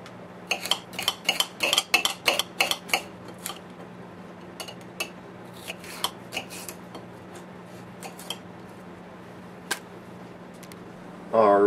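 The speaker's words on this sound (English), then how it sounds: "Alright, so now I cut up my toppings" A knife chopping green pepper for homemade pizza toppings, heard as a quick burst of close, crisp taps on a cutting board, then sparser clicks and knocks with some clinks, over a low steady hum.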